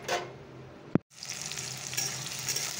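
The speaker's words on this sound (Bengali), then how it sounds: "শুকনো লঙ্কা আর একটু কালো জিরে ফোড়নে দিয়ে পেঁয়াজ আর টমেটোটা ছেড়ে দিলাম" Onion and tomato drop into a hot tempering of dried chilli and black cumin, a sharp clatter followed by a brief hush and then a rising, steady sizzle. The frying hiss stays close and continuous with no voices.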